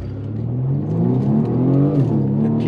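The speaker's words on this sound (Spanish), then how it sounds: "Lo estoy acelerando desde la autobahn, desde cero" A BMW M235i sedan accelerating hard from a standstill on a German autobahn, its engine note rising steadily and loud in the cabin, no voices.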